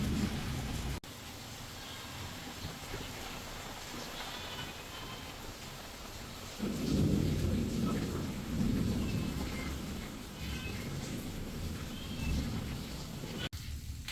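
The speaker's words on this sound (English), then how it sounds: "Last night, there was a heavy rainstorm." Heavy night rainstorm with thunder: steady rain hiss throughout, then a deep rolling thunder rumble swells midway and lingers loudly, with no voices.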